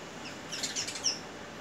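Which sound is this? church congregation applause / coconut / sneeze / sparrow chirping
sparrow chirping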